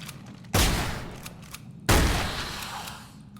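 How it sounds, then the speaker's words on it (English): Two loud, booming shotgun blasts fired at zombies in the horror game Nightmare of Decay, spaced about a second apart, each trailing off in a long decaying echo. "we'll just blow you away with our shotgun"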